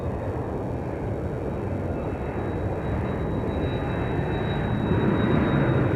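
A Southwest MAX 8 airliner on flight 2295 approaches Love Field in Dallas, its engine roar a steady, broad rumble that slowly grows louder, with a faint high whine above it.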